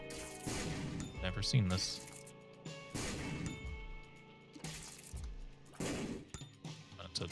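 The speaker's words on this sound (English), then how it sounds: "Let's blow you up. An infinite troll bomb?" Bombs exploding in Binding of Isaac: Repentance, including a troll bomb, with several dull, booming blasts and clattering debris at irregular intervals, partly under a man's speech.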